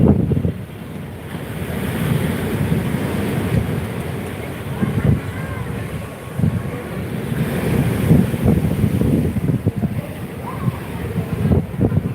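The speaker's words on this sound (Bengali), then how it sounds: "আমরা এই মুহূর্তে ও দীঘার সৈকতকে সরাসরি লাইভের মাধ্যমে তুলে ধরেছি" Surf washing onto Digha beach in steady broadband rushes, with wind buffeting the microphone throughout; no talk, just continuous ocean roar near at hand.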